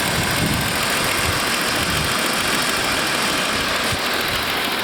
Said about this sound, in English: You can hear the engine's making a lot of clickety noises.